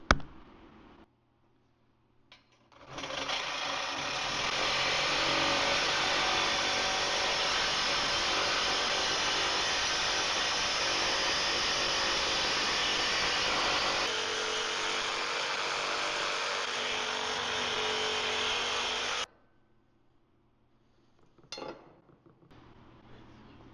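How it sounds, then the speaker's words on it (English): A Sawzall reciprocating saw cuts through stainless steel during work on a Ford Econoline van, producing a loud, harsh, continuous grinding rasp for about sixteen seconds before cutting off abruptly into near silence. "Does anybody know if you can cut stainless with a Sawzall?"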